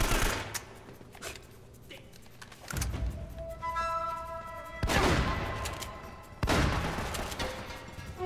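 Shotgun and other gunfire in the video game Uncharted, loud bursts of shots and booming blasts in several heavy clusters amid game noise and ringing effects.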